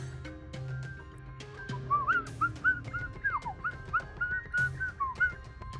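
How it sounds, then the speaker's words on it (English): A person whistles a short, wavering tune of quick rising and falling notes, fairly close, over a quiet background hum. "Sorry, I'm whistling to the tune."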